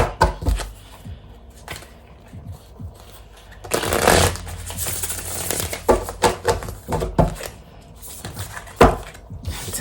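Tarot cards being shuffled by hand, close and loud, in repeated riffling bursts and soft slaps spread across the whole stretch.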